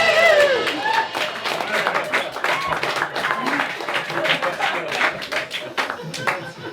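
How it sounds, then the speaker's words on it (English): An audience bursts into lively clapping and crowd noise after a joke, a dense patter of hands that stays fairly loud before thinning slightly, with some voices mixed in. "I'm glad that got so much applause."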